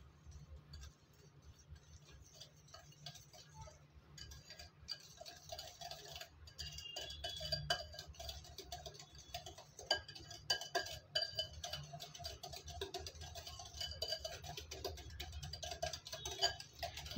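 Eggless vanilla sponge cake batter is stirred in a bowl, giving soft, faint clinks and ticking taps that repeat irregularly throughout, close by in an otherwise quiet kitchen.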